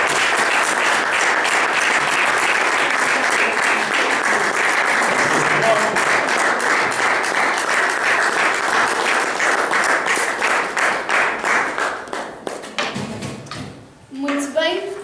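A large audience at a talk on stage claps in sustained, dense applause that holds steady for about twelve seconds, then thins into scattered claps and fades out, with talk starting over the tail.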